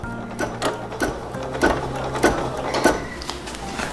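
Sewing machine stitching a 3D Collection center panel, a fast steady mechanical hum broken by repeated short needle bursts, close and fairly loud with no talking.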